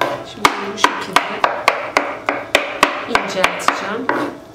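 Knife chopping on a cutting board in a steady rhythm, about a dozen sharp, crisp chops close by with no talking.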